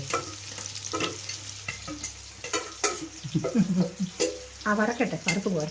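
Oil sizzles and crackles in a pan while fish for pickle is fried and a spoon stirs and scrapes in uneven bursts, fairly close throughout.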